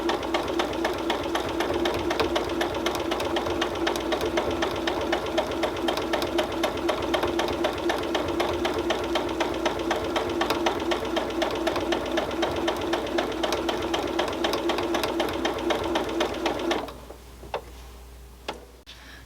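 Sewing machine back-stitching while a Christmas stocking lining is sewn, a fast steady mechanical ticking run that continues evenly for most of the stretch, then stops abruptly near the end, leaving quiet room sound.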